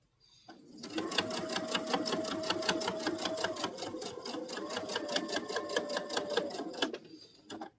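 A sewing machine stitches a satin stitch in a rapid, even stream of needle clatter. It starts abruptly, runs steadily for about six seconds with a faint motor whine, then stops.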